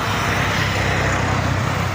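A car drives along the road toward Jalpesh temple, its engine and tyre noise forming a steady, loud, close rumble with no voices.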